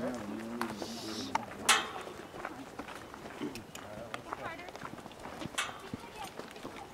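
Horse hooves clip-clopping during a riding lesson, an irregular run of soft hoof beats on the ground with voices talking over them.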